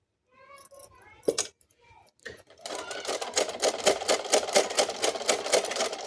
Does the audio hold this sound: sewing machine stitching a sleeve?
yes